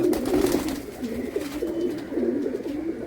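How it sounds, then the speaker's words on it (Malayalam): A male pigeon coos in a steady, rolling warble that runs almost unbroken, fairly close and clear, with no talking. "ഇത് എന്റെ ചേട്ടൻ സാംസന്റെ പ്രാവാണ്"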